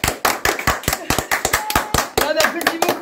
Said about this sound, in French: On applaudit beaucoup.